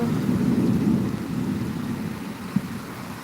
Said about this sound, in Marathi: हा पाऊस पण खूप मोठा आहे